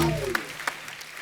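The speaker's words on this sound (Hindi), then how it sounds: "एक बार विकी डोनर के लिए जोरदार तालियां हो जाए।" A few scattered claps from a studio audience at a comedy show sound over the tail of a voice and then thin out quickly.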